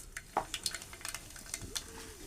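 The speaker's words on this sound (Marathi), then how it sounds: "इथे मी उथळीमध्ये म्हणजे छोट्या टोपामध्ये तेल घेतलेलं आहे आणि आता त्यामध्ये मी टाकणार आहे थोडीशी राई" Mustard seeds crackling in hot oil in a small pot, a quiet burst of irregular pops and light ticks close by, faint overall with a soft metallic clink near the end, no talking.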